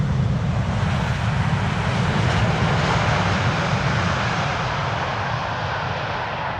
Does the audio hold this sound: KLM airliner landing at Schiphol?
yes